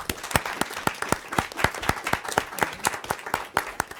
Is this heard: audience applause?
yes